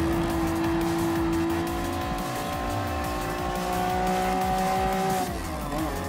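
Race car engines whine steadily with a sustained tone that rises and then drops, while tires squeal through the corners during a custom Gran Turismo Sport race featuring a first-generation Honda NSX Type R and a Toyota SFR Racing Concept.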